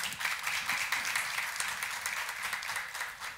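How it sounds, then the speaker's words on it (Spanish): An audience at an international parenting conference gives steady, fairly faint applause, a continuous patter of many hands with no talk over it. "para quien pido un fuerte aplauso"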